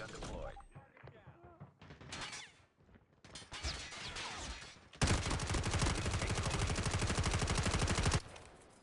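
Call of Duty Mobile gunfire: scattered shots early on, then a loud sustained automatic burst, fired at the player's own turret, for about three seconds before it cuts off.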